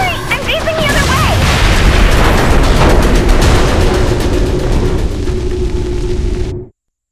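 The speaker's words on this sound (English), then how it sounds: "I just blew up a capital ship" A capital ship blows apart in the video game Saints Row 4, a loud, sustained rumbling explosion with crackling debris and tonal game effects that cuts off abruptly at the end.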